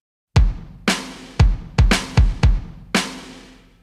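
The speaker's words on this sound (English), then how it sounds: "The first instrument is Abbey Road 60s drummer from Native Instruments" A sampled drum kit, Native Instruments Abbey Road 60s Drummer, plays a sparse groove of sharp kick-and-snare hits with ringing cymbal wash, seven strong strikes with decaying tails, no voices.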